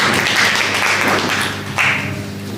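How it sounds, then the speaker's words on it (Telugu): An audience at a Christmas prayer fellowship gathering applauds loudly to welcome a bishop, the dense clapping steady and close throughout with a brief dip and renewed surge near the end. "అందరూ కూడా గట్టిగా చప్పట్లు కొడుతూ వారిని కూడా ఆహ్వానిస్తున్నాం"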